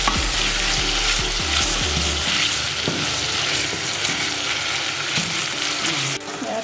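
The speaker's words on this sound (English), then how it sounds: "And keep stirring so the tomatoes can get ready." Tomatoes fry in a pot for pumpkin rice while a spoon stirs them, giving steady loud sizzling with low scraping knocks, busiest in the first half and fading slightly near the end.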